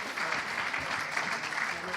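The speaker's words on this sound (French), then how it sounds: "je crois qu'on peut tous vous applaudir encore une fois" Dense, continuous applause from an audience at the Fondation SNCF solidarity award ceremony, a steady wash of many hands clapping without pause.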